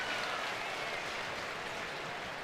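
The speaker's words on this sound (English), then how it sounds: "play with the crowd noise" Steady crowd noise fills a baseball stadium during a Mets–Phillies game, a dense, continuous roar and murmur of many spectators with no clear breaks.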